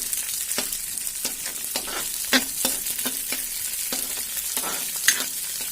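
Green peas fry in oil for poha with a steady close sizzle, broken by repeated spoon stirs and scrapes against the pan at an uneven rhythm; no voices.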